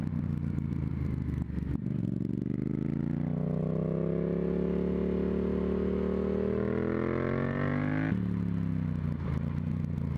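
Yamaha MT-07 parallel-twin engine pulling hard through the gears, revs climbing steadily in a rising harmonic sweep, then a sharp shift and renewed climb, loud and close with wind buffeting and no talk.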